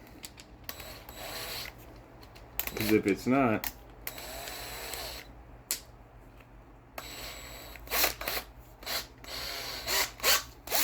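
A power drill whirs in short bursts, starting and stopping repeatedly while polishing a car headlamp on a 2010 Subaru Forester, with someone talking briefly between runs.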